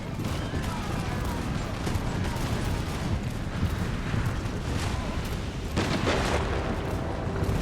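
Cannon artillery fires in an American Revolution strategy game battle around Quebec, a dense, continuous din of booms and volleys holding steady and loud across the whole stretch, with a slight swell near the end.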